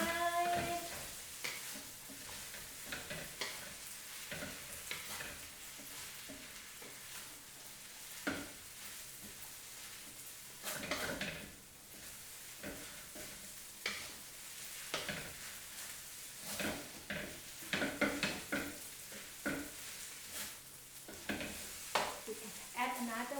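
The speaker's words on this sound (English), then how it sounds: "and then you stir fry" Food stir-frying in a pan, a continuous sizzle with repeated scraping and tossing strokes of a utensil at irregular intervals, fairly quiet overall.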